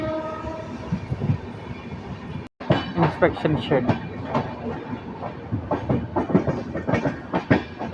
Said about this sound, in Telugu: చూస్తూ ఉండండి, ట్రాక్ మారుతుంది చూసారు కదా.